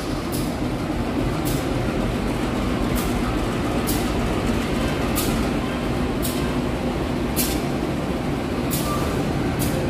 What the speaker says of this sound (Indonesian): Kereta api lokal Garut